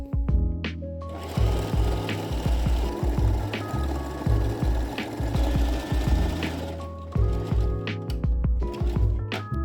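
A sewing machine running a stretch stitch on a fabric hairband: a steady, fast mechanical chatter of needle strokes that starts after a few clicks, runs several seconds, pauses, then resumes, close and loud with no talk.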